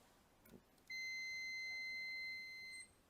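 A multimeter's continuity beep sounds while a bridge rectifier on a Sony TV power supply board is being tested: a single steady high-pitched tone that holds for about two seconds and then stops, with a faint click just before it.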